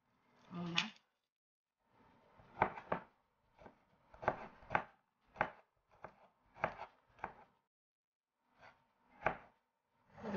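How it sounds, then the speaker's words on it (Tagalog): A knife chops garlic on a board in a home kitchen, about a dozen crisp, separate cuts in uneven groups with short pauses between them, close and clear against a quiet background. "Maghihiwa po tayo ng bawang dahil gigisahin po natin."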